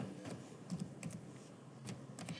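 A computer keyboard is typed on in short, quiet bursts of clicking keystrokes, faint and close, with brief pauses between groups of keys.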